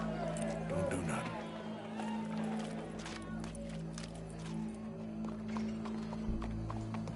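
Horse hooves clip-clop and a horse neighs in a PS4 video game, a steady mid-level trotting rhythm over a low ambient hum and crowd murmur, with game character voices talking throughout.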